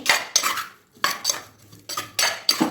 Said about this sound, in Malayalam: കുറച്ച് ഉപ്പ് എന്നിട്ടിങ്ങനെ ഇളക്കി